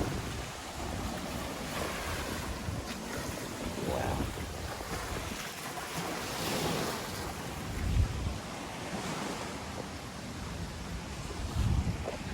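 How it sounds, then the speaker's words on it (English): Sizeable waves on the Brisbane River slap against a rocking jetty, a continuous rushing wash with wind buffeting the microphone and a few heavier surges, while a person briefly exclaims. "Those are some pretty big waves for the Brisbane River, and they're about to hit us."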